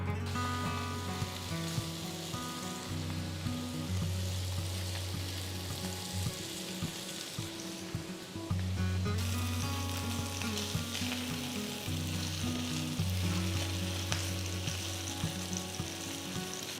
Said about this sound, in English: next we are going to fry the paneer pieces to a pan, add a little ghee